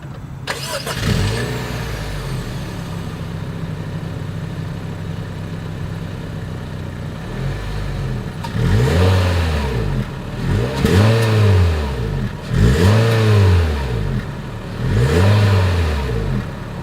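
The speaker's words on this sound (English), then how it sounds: "As always, here is that exhaust clip." A 2022 Honda HR-V engine idles with a deep rumble, then is revved repeatedly in sharp bursts, the exhaust roaring up and falling back several times.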